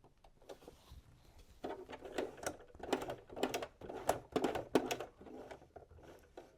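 A sewing machine needle stitches along a raw fabric edge in quiet, quick bursts of rapid ticking that start after a brief pause and stop and start irregularly.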